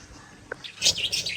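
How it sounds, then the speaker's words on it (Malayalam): A few short bird chirps and twittering calls come in quick succession near the end, preceded by a faint single peep. No talking. "നമ്മുടെ കിളികളൊക്കെ ഇങ്ങനെ ഇതിക്കടെ കരപര കരപരാന്ന് വെച്ച് നടക്കുന്നുണ്ട്"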